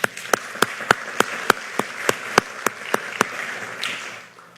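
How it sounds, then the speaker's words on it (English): A small audience claps for event volunteers, only a few sparse, evenly spaced claps that fade out after a few seconds. "So let's give all of them a round of applause."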